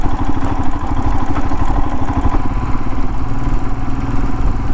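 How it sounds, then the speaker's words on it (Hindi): A motorcycle engine runs loud and close with a rapid, rhythmic mid-pitched thrum and some clatter, sustained throughout as the bike rides mountain roads on a journey from Ayodhya to Nepal. "पिछले 2 घंटे से बाइक चला रहे हैं इन पहाड़ों में"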